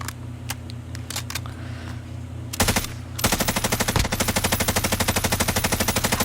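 Rapid automatic gunfire in a Warzone match, sporadic single shots at first, then a loud sustained burst of evenly spaced rounds running steadily for several seconds over constant low game ambience.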